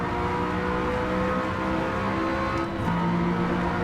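An Audi TT-S Coupe in the racing game Gran Turismo 7 drones loudly and continuously at high revs, with a sudden pitch drop near the end as it shifts gear.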